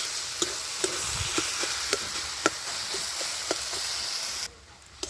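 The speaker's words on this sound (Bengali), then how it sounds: "এবার খুন্তি দিয়ে আমি একটু আলুটা টিপে দিচ্ছি।" A spatula presses and taps potatoes in a red amaranth curry cooking in a pan: sharp, regular clicks repeat roughly every half second over a constant sizzle, close by, until the sizzle abruptly drops away near the end.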